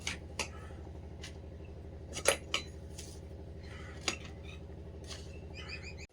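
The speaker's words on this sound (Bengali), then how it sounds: "মা এদিকে শাক কাটতে বসে গেছে" Someone cuts leafy greens (shak) in a home kitchen, making faint, irregular snips and clicks. Steady low background noise runs under them, and birds chirp softly near the end.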